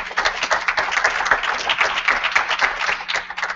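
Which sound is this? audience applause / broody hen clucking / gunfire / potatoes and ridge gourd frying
audience applause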